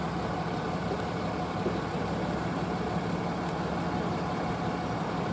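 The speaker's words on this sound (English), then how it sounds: "See, he's got the engine running." A steady, low truck engine idle rumbles continuously at moderate distance, with no change in pitch or rhythm throughout.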